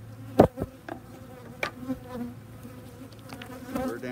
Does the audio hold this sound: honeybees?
yes